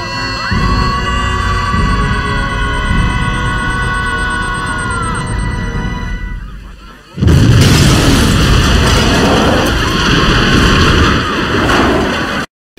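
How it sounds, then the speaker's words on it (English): A coconut bomb blows up in the film Bio-Dome: a steady roaring film soundtrack gives way to a sudden, massive close-range blast that stays loud and rumbling for several seconds before cutting off abruptly. "grabbed one of the 100 randomly placed coconut bombs that can still explode just from mild impact"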